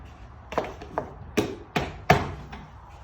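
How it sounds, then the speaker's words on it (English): Several sharp hammer blows driving wooden pegs into a timber frame joint, close by, landing at an uneven pace with short pauses between strikes. "we'll pound these into place. A little hammer here."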